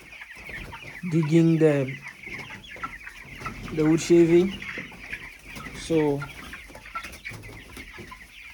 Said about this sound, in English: You see, they are now chicken.